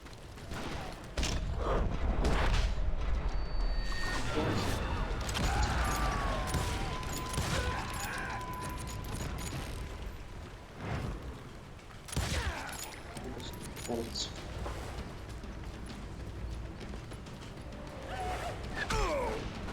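Gunfire in the Call of Juarez video game: scattered shots and impacts crack out amid a dense, busy game soundscape, with sharper bursts around the middle and toward the end, fairly loud throughout.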